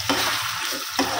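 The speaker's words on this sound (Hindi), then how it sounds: "अब हम इसमें डाल देंगे बारीक कटे हुए टमाटर, थोड़ा सा इसको चला लेते हैं" Browned onions and finely chopped tomatoes being stirred in a frying pan, a steady close sizzle with scraping spoon strokes at the start and near the end.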